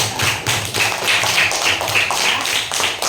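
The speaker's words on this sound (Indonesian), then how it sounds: "terima kasih tepuk tangan" Young pupils in an elementary classroom clap together in steady, loud bursts of applause, with irregular taps and thuds, close by, and no talking.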